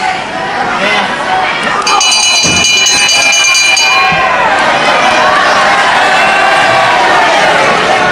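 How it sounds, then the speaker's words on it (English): A timekeeper's bell rings repeatedly for about two seconds at a 1977 UK wrestling match, over a loud, steady crowd roar and commentary. "the timekeeper ringing the bell when he finally did"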